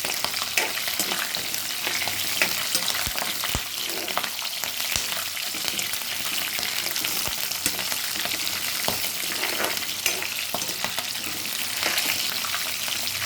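Tamarind broth for pulihora boils in a pot with green chillies, giving a steady bubbling sizzle with scattered sharp pops, close by and without talk.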